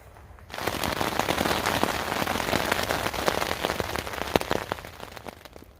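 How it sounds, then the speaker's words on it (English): Heavy overnight rain drums on a tent during an Arizona Trail thru-hike, starting abruptly and then a dense, steady patter of drops with sharper individual hits, close and loud, with no voices. "it rained all night long. Sometimes hard and sometimes harder."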